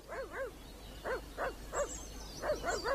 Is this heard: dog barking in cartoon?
yes